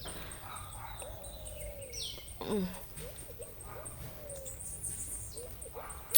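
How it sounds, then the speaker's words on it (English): Birds chirp and call in a home garden, with faint, scattered tweets spread through the clip over a low background hum. A single brief louder knock comes near the end. "watching the birds"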